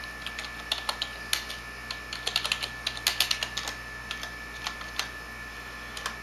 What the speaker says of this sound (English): you type in a random address in